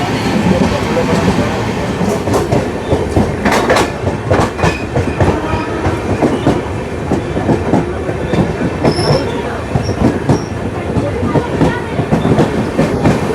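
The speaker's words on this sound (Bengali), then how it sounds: "এটা হচ্ছে বহরমপুরের 1 নম্বর প্ল্যাটফর্ম, যেখানে এসে পৌঁছেছে আমাদের এই কলকাতা সাইরাং এক্সপ্রেস।" The Kolkata Sairang Express rolls loudly into platform 1 at Berhampur Court station, its carriages clattering steadily over the rails with sharp wheel clicks and occasional squeals, while people talk faintly on the platform.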